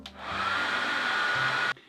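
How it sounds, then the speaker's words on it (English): A handheld hair dryer switches on and blows hot air with a steady loud whooshing whine for over a second, then cuts off abruptly. "When I turn on the hairdryer, it heats up the air and blows it forward."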